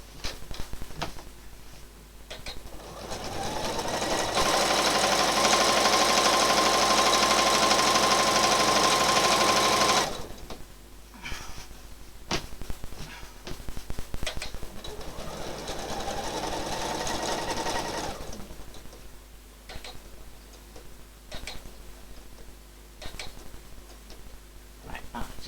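A sewing machine stitches in the ditch, running in a long fast burst followed by a quieter, uneven stretch of stitching. Brief pauses and light handling sounds come between the runs.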